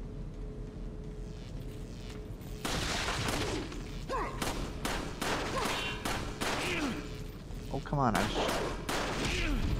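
Repeated gunshots ring out in Resident Evil 4 on the Wii, a steady run of sharp, loud reports mixed with game effects while someone talks over the action.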